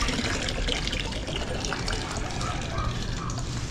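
A water pump at a house pushes out a strong gush of water that fills the space with a loud, steady rush close by, with people talking over it.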